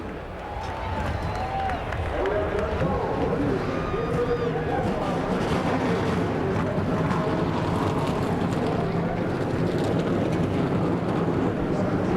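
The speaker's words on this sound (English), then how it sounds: "Gentlemen, start your engines." NASCAR stock car engines firing up at Daytona International Speedway before a 2004 Gatorade Twin 125 qualifying race, a loud, sustained roar of many engines revving together, with crowd noise and voices talking over it.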